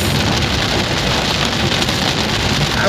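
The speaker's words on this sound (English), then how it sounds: "So guys, it's raining." Rain pours steadily onto surfaces in a dense, loud, continuous hiss of drops with no break and no voices.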